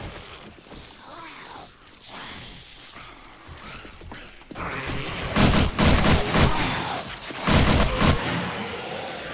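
An MG4 machine gun in the survival game 7 Days to Die rattles off loud bursts of rapid automatic fire in the second half, following quieter clanks and game noise at the start.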